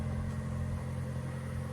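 A 2025 Toyota 4Runner SR5 idles with a steady, even low engine hum, close and continuous with no talking.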